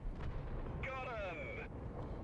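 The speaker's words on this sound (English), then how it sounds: "Right as the Pershing exits the mountainside, I take a shot to save the Ferdinand." A single tank gun shot in a tank video game, fired at a Pershing to save a Ferdinand: a broad booming blast rising out of steady game rumble, with a whistling, descending tone trailing for about a second.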